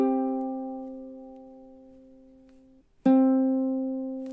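Ukulele rendition of measure 19 of a song: one long ringing note slowly fades over several seconds, then a single new pluck sounds crisply and sustains, close and solo.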